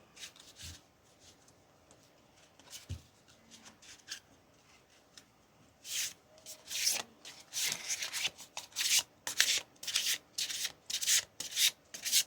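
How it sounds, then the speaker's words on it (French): Oracle cards being shuffled by hand, starting with a few soft taps, then a steady run of crisp, close riffling and rubbing bursts in quick rhythm. "Je mélange d'abord les cartes"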